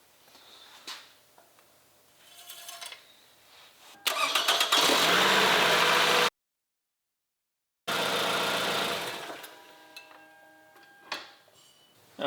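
A Toyota Camry inline-four engine cranks and fires up loudly, cuts out briefly, then starts again and settles toward an idle after an oil change.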